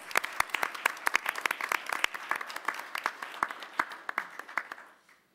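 A small gathering at a city commission meeting claps for several seconds, sparse individual hand claps distinct and close, thinning out and stopping abruptly near the end.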